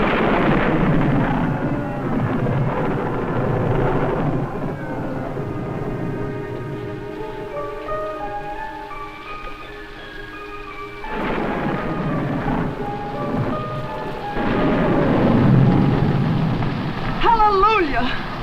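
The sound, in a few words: thunderstorm with rain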